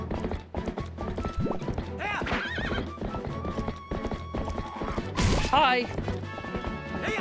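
Horse hooves clip-clop through a Zelda: Twilight Princess game scene, along with loud whinnies, impacts and game music, and a voice briefly speaks.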